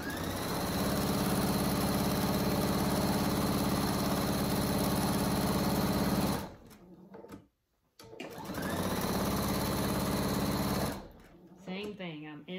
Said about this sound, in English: Now we're going to go ahead and sew down that side.